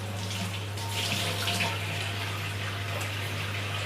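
Tap water runs steadily into a kitchen sink during cleanup while lunch is being cooked, a continuous close rush with a low steady hum underneath and no talking.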